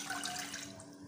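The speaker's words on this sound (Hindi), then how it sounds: "ये जी हम अब 1 कप इसमें पानी ऐड करेंगे" One cup of water poured into a pan to make strawberry jelly, a soft, continuous splashing close by with no talk.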